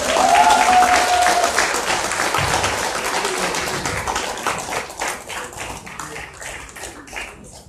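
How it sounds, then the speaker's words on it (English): Audience applause at the opening ceremony of the 5th International Garifuna Conference: a dense burst of clapping that starts strong, then gradually thins and fades out. "let's give another round of applause"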